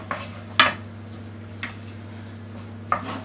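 A wooden spoon stirs and scrapes choux pastry dough in a saucepan over low heat, giving a few separate knocks and scrapes against the pan over a steady low hum, with no voices.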